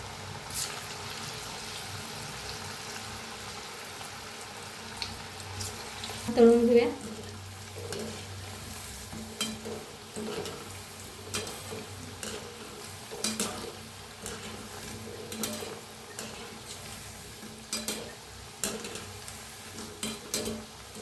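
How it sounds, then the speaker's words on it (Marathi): Cabbage manchurian balls deep-frying in hot oil on a lowered gas flame, a steady soft sizzle running throughout with faint clinks of a utensil and a brief louder burst partway through. "आता छान तळलंय बघा हे मी काढून घेऊया बघा आवाज"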